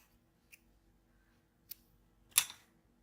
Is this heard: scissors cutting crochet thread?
yes